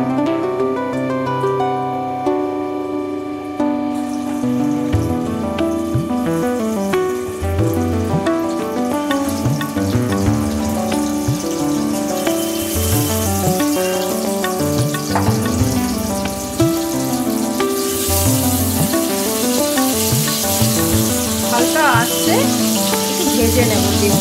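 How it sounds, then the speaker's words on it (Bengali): Eggs fry in hot oil in a pan for an egg curry, a steady, bright sizzle with crackling spits that continues throughout, with faint talk and other kitchen sounds underneath. "ভেজে নেব ডিমগুলোকে, যাতে নুন হলুদটা ভেতরে ঢুকে যায়।"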